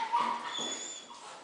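A small puppy at an animal shelter gives a few soft, high whimpers and yips, close but faint, over a quiet background.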